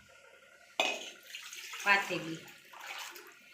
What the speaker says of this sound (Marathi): साठी मी 2 पातेली पाणी टाकत आहे